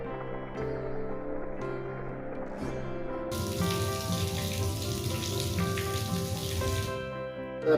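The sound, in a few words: water jet running from tap after pressure reduction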